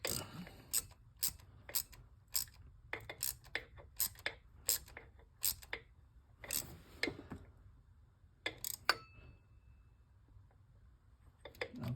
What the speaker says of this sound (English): I'm just going to use the 1/4 inch ratchet.